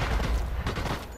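Gunfire from Sniper Elite VR, a virtual reality sniper game, crackling in several close rapid bursts over a dense, rumbling low background within about a second.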